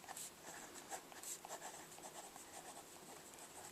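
Marker strokes on a board squeak and rub in short, irregular bursts, faint and close, with no talking.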